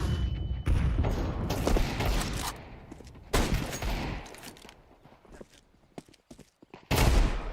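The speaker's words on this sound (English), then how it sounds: "Throwing a grenade." A grenade and gunfire in the shooter Counter-Strike 2: repeated sharp bursts of rifle fire and blasts, loud and close, with short gaps between volleys and a voice speaking at low level underneath.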